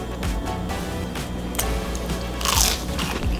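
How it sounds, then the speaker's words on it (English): Crispy fried Spam fries being bitten up close give a loud crunch with crackly textures, heard over steady background noise during a short burst of eating. "Listen to how crispy this is."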